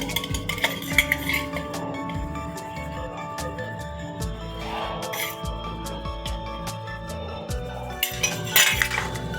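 Rohu fish pieces being mixed with red chili powder and mustard oil in a metal bowl, giving close, repeated clinks and scrapes of utensil against the dish in an irregular rhythm, with a few sharper knocks near the end.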